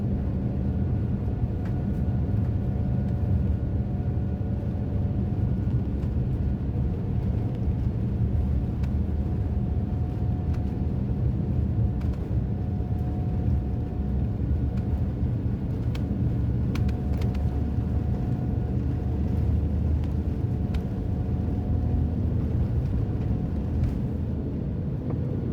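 Steady roar of an Air India-Vistara airliner's engines during takeoff from Mumbai, heard from the business class cabin as a continuous low rumble with a faint whine, unbroken for the whole stretch.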